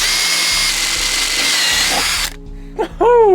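A power drill bores a hole through a metal keyring, a loud steady whine lasting about two seconds before stopping abruptly, followed by brief clinks and scraping.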